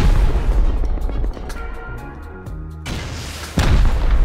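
Rocket blasts in Rust, heavy booming explosions at the start and end with a quieter stretch of tonal noise between, loud and close.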